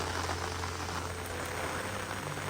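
Rain falls steadily on a surface, a soft constant patter and hiss at moderate volume with no speech over it.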